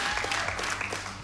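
A studio audience briefly applauds glassblower Gérald Collard, a short burst of dense clapping from a crowd lasting just over a second.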